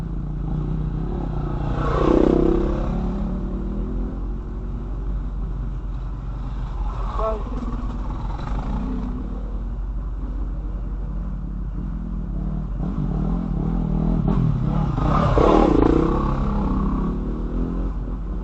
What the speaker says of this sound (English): this is where you see a whole heap of bloody bikes rip past us